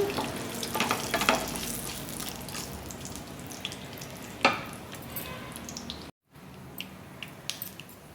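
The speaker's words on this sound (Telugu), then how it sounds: "ఇలా పోపు వేగేటప్పుడు" Dried red chillies sizzle in hot oil in a pan during tempering for an Indian gongura chutney, a steady close frying hiss with a few stirring scrapes and a short gap of silence.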